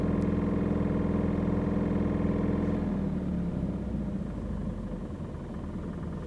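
A Volkswagen XL1 hybrid's small engine held at 2,500 RPM drones steadily with a coarse, rough tone that softens slightly toward the end, heard alone without talk.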